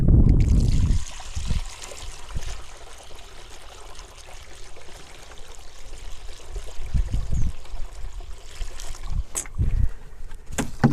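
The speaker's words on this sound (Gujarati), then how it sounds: "અને હવે આપણે ઉમેરી દઈશું પાણી" Water pours into a natural farming solution mixture for a cumin crop, a steady trickling and splashing stream that runs for the whole stretch, near and fairly loud, with a few low thumps.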